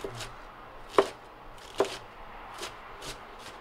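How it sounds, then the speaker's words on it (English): A knife chops cabbage for coleslaw on a board, two sharp close strikes followed by a few softer, scattered chops amid light background noise. "So then just give it some more chops."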